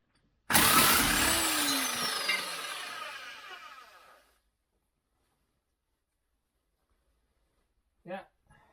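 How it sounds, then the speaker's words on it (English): Pneumatic hammering tool rattles loudly for about four seconds while loosening a bolt on a Lexus RX400h rear wheel hub, then stops to near silence before a brief metallic clink. "loosen this one first with the hammering tool"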